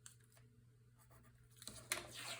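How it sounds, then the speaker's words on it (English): A pencil makes short, soft scratching strokes on a card, marking its center while a Stamperia sunflower mini album page is built; quiet and close, with a slightly louder scrape near the end. "we're going to mark in the center of our card first"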